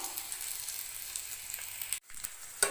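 Sliced potatoes and curry leaves sizzling in hot oil for a potato stir-fry, a steady close frying hiss that briefly cuts out and returns with a sharp crackle, no voices.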